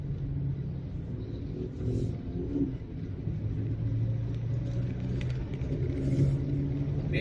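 Road traffic at dusk heading toward a circle: cars roll past in a continuous low rumble of engines and tires, a steady close wash of vehicle noise with occasional louder passes.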